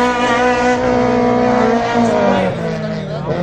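Race car drifting through a corner at the SuperPrime Darwin Cavero circuit, a loud, close engine roar with shifting pitch and tire noise, accompanied throughout by an excited commentator talking over it.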